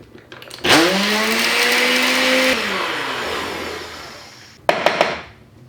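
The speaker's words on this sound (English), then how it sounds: "So I'm just going to blend these in a spice grinder or a small NutriBullet." A spice grinder blends cardamom seeds with a little sugar: a loud, close motor whir runs for about two seconds, then winds down, followed by a few short, sharp pulses.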